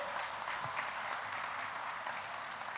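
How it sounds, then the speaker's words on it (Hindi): At a foundation-stone ceremony for a heart and cancer hospital, an audience gives a faint, distant round of steady applause, an even wash of many clapping hands with no talking over it. "और आप सबसे जोरदार ताली होनी चाहिए।"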